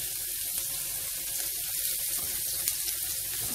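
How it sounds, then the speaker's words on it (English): Scallions frying in a pot for a Jamaican ackee and salted cod dish, a steady hissing sizzle close by that holds evenly throughout with no talk. "I'm just gonna allow it to fry about maybe"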